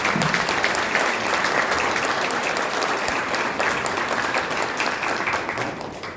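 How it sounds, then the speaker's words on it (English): A crowd at a waterfront trash-can decorating event claps for the mayor in sustained, dense applause that stays loud throughout and tapers slightly at the very end. "I think he needs a round of applause."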